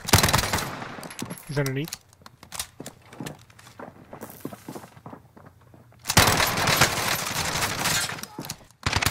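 Shooter video game gunfire: dense bursts of automatic fire open and close the stretch, loud and close, with scattered single shots and footsteps between and a voice speaking briefly over it.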